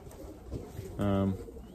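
A young racing pigeon gives a short, close coo with a steady throaty pulse, after faint rustling and a few soft low sounds.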